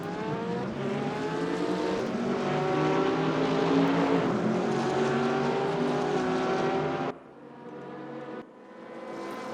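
Race cars lapping Monza in a racing video game, a loud, sustained engine drone with rising gear pitch that cuts off abruptly near the end, followed by quieter engine sound.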